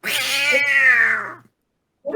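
A cat gives one long, drawn-out meow, loud and close, lasting over a second with a falling pitch, followed by silence and the start of a second sound at the end.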